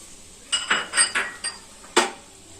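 A spoon clinks and scrapes against a pan while turmeric, cumin and coriander powder are stirred together for Diwali poha chivda, giving five or six short metallic knocks in quick, uneven succession, close and fairly loud.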